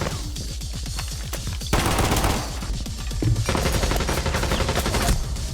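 Sustained bursts of automatic gunfire from magazine dumps in the video game Rainbow Six Siege, rapid rhythmic shots rattling in long strings with brief gaps, loud and close with no talk over them.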